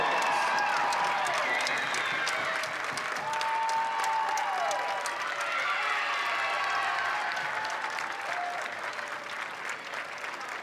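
Steady, sustained applause from a large crowd at a college softball championship trophy presentation, dense clapping with some cheering and whistles mixed in, continuing throughout and easing slightly at the end.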